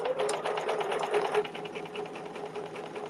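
A sewing machine stitching a quilt pattern runs in a fast, even stream of close mechanical stitches, steady for the whole stretch and easing slightly near the end, with no talk over it.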